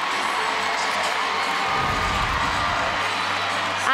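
Crowd cheering and shouting at a college gymnastics meet between Florida and Auburn, a loud, continuous roar of an arena audience that swells slightly toward the end.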